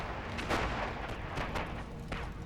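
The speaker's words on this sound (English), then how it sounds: "the guns would create a curtain of fire that would move forward 100 metres every 3 minutes" A WWI Western Front artillery barrage from 1918, with repeated heavy gun blasts landing roughly every second over a continuous dense rumble of distant fire.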